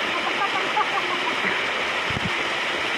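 Wang Chung Stream's Double Dragon Falls pours in a steady, loud, broadband roar of falling water close by, unbroken throughout, with a faint voice barely showing beneath it.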